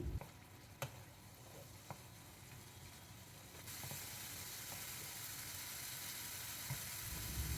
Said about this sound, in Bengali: এবার সব কিছুকে ভালো করে মিশিয়ে নেব এক মিনিটের মতো একটু কুক করে নিচ্ছি